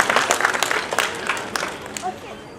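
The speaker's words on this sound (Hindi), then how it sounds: "जोरदार तालियों से माननीय मंत्री महोदय का स्वागत करना चाहते हैं" An audience at a felicitation and book release event in Bhopal claps to welcome a minister, with a short flurry of sharp claps that thins out and fades under a speaking voice.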